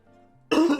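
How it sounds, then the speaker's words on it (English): A person clears their throat once, a short loud rasping burst after a stretch of quiet low hum, close and alone with no talk. "let me clear my throat"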